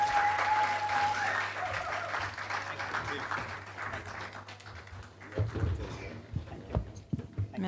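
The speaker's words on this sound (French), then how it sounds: "Let's clap for the man of God and our dear sister." A church audience claps for a preacher and his translator, a dense wash of applause that thins into scattered, louder individual claps near the end.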